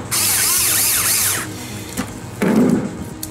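A power drill drives screws into a Ford factory 5th wheel/gooseneck hitch prep mounting. It whines loud and close for over a second, then gives a short burst, then grinds again with a heavier, lower pitch. No one speaks.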